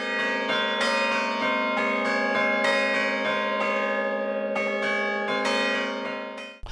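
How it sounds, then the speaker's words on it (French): A four-bell church carillon in Chandolin rings out close and loud, bright overlapping strikes repeating in a steady pattern with long sustained overtones that fade at the end. "Les cloches, le carillon."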